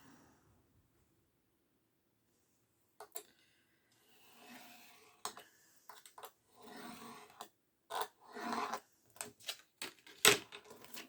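Paper being cut with scissors for a handmade Christmas advent card: a string of crisp snips and rustles after a quiet opening, growing denser and louder toward the end, with no talking.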